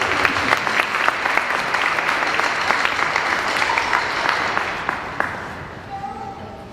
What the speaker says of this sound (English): You can clap, yeah.